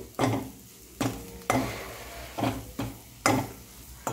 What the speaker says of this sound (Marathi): हा मसाला पण ह्या मसाल्यात फ्राय करून घेऊ.